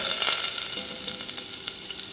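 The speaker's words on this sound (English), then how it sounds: "now you can see the olive oil is sizzling" Olive oil sizzles steadily in a hot pan, a close, crackling hiss with small pops throughout, while making chicken pilaf.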